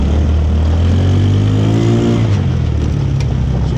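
A Tomberlin Crossfire 150cc off-road buggy engine revs hard and loud up close, pitch climbing and sliding back down with a continuous roar.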